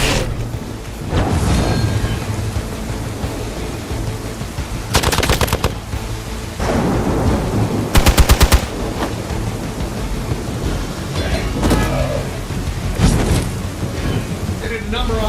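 Gunfire in the video game Marvel's Midnight Suns comes in loud rapid bursts, one near 5 seconds and another near 8 seconds, set against a dense booming, rumbling battle background.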